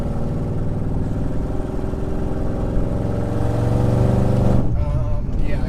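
A straight-piped Audi B7 S4, 25th Anniversary Edition, drones steadily at light quarter throttle from inside the cabin, a loud continuous engine rumble that shifts pitch near the end as the revs change, with no talking.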